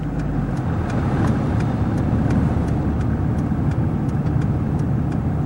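Vehicles boxed in a traffic jam on a bridge, a dense continuous rumble of engines and road noise, fairly loud and steady throughout with no voices.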